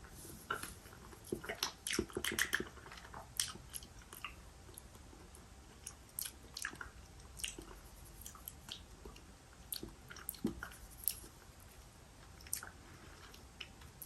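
Puchao fruit soda chewy candy from Japan is chewed close up, with soft sticky squishes and scattered small clicks and smacks over a quiet background and no talking.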